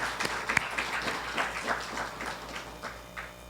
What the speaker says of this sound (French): commençons par applaudir et vous allez voir que nous avons raison de le faire.